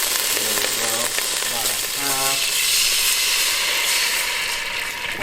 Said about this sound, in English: it's going to be sizzling